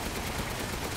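Sustained gunfire in the horror video game Resident Evil Village, a dense, unbroken burst of rapid shots filling a brief moment at steady loudness.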